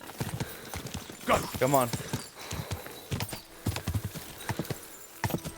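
Rhythmic hooves of a horse galloping in Kingdom Come: Deliverance II, a steady clip-clop with a brief whinny partway through, close and clear under a man's spoken urging.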